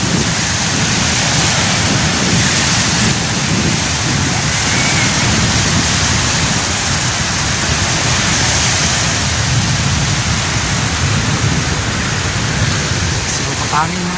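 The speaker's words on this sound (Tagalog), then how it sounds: "Video na ang alon guys." Sea waves at a breezy seashore make a steady, loud wash of broadband surf noise that runs without a break for the whole stretch.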